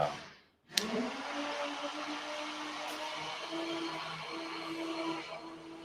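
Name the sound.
vacuum cleaner running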